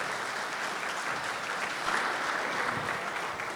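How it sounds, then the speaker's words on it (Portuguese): Steady audience applause at a national road-conservation conference in Brazil, honoring the conference president and secretary; dense, even clapping from a moderately distant crowd lasting the whole stretch, with no talking over it. "Uma salva de palmas para o nosso presidente"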